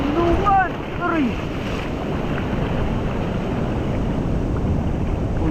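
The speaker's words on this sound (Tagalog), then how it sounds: "Malakas yung alon." Strong sea waves rush and crash around a fishing boat in a loud, continuous wash with wind noise on the microphone, and a short bit of voice over the first second.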